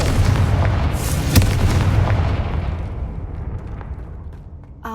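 A fiery Confringo spell blast in the Hogwarts Legacy video game goes off as one loud boom near the start, with a sharp second crack about a second later, both trailing into a fading rumbling decay.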